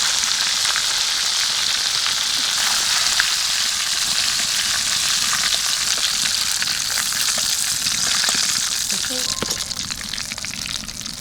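Chicken pieces for village-style KFC fried chicken sizzle in hot oil, a loud continuous crackling hiss that eases slightly near the end, with scattered stirring sounds.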